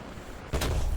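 A single loud, close blast from the 37mm tank gun of an M3A1 in War Thunder, a sudden booming report after a quiet moment, ringing on to the end with no talking.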